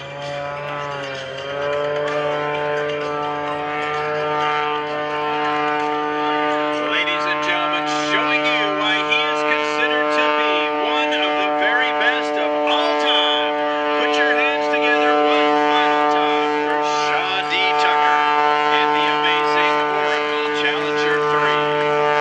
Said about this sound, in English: he is going to stand this aircraft on its tail and bring it to a hover in